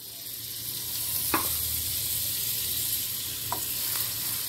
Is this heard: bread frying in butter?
yes